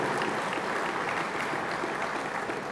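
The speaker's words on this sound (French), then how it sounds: "Merci Fabrice, vous pouvez l'applaudir" Steady applause from an audience at an annual general meeting fills the whole stretch, dense and even, with no voices standing out.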